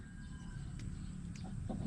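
A chicken on a farm gives a few soft, faint clucks over a quiet outdoor background, brief calls scattered across a couple of seconds.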